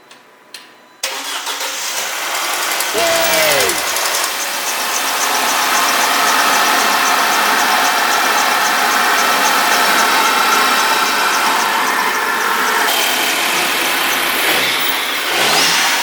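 A car engine cranks on the starter for about a second, catches and settles into a loud, steady idle that runs close by for over ten seconds, with a slight drop in tone near the end.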